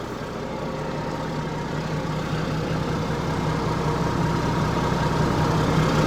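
A 55-year-old Mack Flintstone truck engine idling, a steady low, rumbling drone that holds even and close, slowly building slightly in loudness, with no talking.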